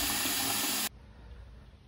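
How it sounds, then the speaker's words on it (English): Water gushes steadily from a tap into a bucket, a loud broadband rushing hiss that cuts off abruptly after about a second, leaving quiet room tone. "This is just water we're running in a bucket right here."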